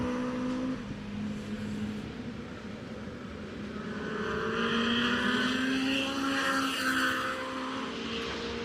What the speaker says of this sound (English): Turbocharged Subaru 4-cylinder. New engine in the car, too. It is loud. It is singing right now.